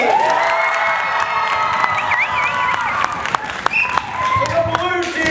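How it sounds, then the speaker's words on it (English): A crowd at an improv comedy sports show cheers, whoops and applauds loudly and continuously for a team, with excited shouts rising above the sustained clapping throughout. "Applause for both, but louder for the team that you would like to see get the next 5 points."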